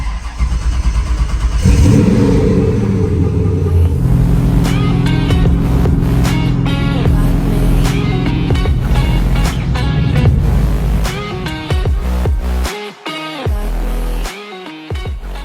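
A Porsche 911 with a swapped LS V8 of about 500 horsepower cranks and catches on a cold start, then settles into a loud, lumpy idle with blips of throttle revving near at hand.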